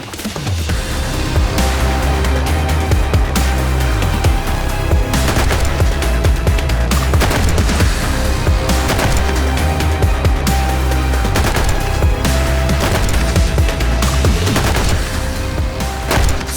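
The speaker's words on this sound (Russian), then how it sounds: "и учебные стрельбы" Assault rifles fire in sustained, dense bursts during a military training shoot, with continuous overlapping shots and loud booming reports throughout, no voices.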